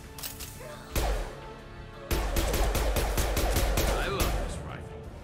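Rifle fire in the video game Mass Effect 2: a single loud crack, then a rapid run of punchy shots with heavy low thumps. The volley holds steady, then fades.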